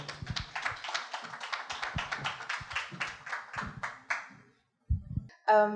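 Conference audience gives a round of applause for a performer, a few hands clapping in a fairly sparse, distinct rhythm that fades out, followed by a short pause and a brief burst of other sound.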